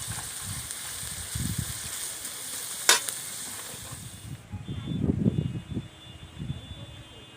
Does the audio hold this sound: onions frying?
yes